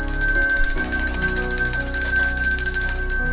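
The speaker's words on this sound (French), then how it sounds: "Cloche!" A bell rings out steadily with bright, sustained metallic tones and a rapid trill, continuous for several seconds with no talking over it.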